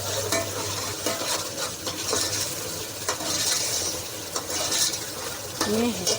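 Fish sizzling and frying in a pan for fish pulao, a steady broadband hiss with intermittent scraping from stirring throughout.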